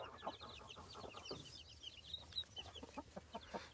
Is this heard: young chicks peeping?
yes